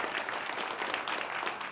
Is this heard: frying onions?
no